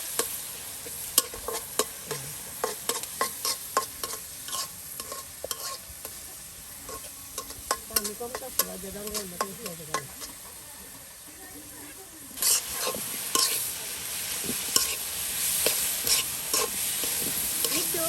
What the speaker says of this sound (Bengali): আসলে শাক ভাজি করলে তেলটা একটু বেশি দিতে হয়